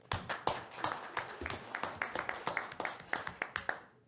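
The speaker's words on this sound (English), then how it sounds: "You can clap." A small audience at a county board meeting claps in a thin, quiet patter of distinct individual hand claps, sparse and fairly faint, tapering off at the end.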